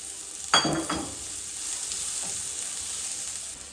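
Garlic sautéing in hot oil in a pan for sarsyadong dalagang bukid fish, a steady close sizzle with a couple of sharp clatters and stirring scrapes at the start, no talking.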